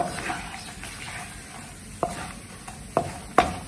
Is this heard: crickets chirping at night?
no